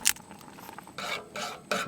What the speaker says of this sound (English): a bit of pepper, and give that a stir.